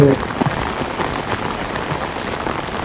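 Heavy rain falls steadily on a street in Chittagong city during a storm, a dense continuous hiss of drops on hard surfaces with scattered closer splashes, loud and unbroken throughout.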